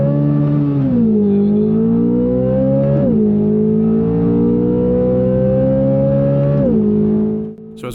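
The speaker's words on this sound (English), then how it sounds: "he definitely keeps the RPMs really high, screams out of the corner, shifts up into the next gear" Corvette Z06 engine held at high RPM on the Nürburgring, a loud continuous howl that climbs, drops sharply at gear shifts and climbs again, cutting off near the end.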